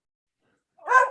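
A hungry pet dog barks once, close and loud, at the very end after a stretch of silence.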